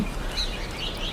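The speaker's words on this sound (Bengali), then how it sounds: "শুধু আছে পাখির কিচিরমিচির শব্দ" A few brief, thin bird chirps at a nature resort in Gazipur, faint over a steady outdoor ambience of wind and rustling.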